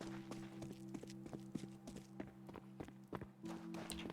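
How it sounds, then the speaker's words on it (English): Footsteps patter steadily in Counter-Strike, a quick, even run of light thuds over a low droning hum of game music, quiet and unbroken by talk. "Footsteps galore because there's no one here."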